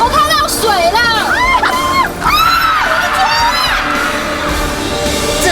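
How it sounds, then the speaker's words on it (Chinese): Excited screams and whoops from a group of young people hiking to a natural swimming hole beneath a waterfall, several high voices overlapping loudly and continuously in a noisy outdoor setting. "尖叫声四起"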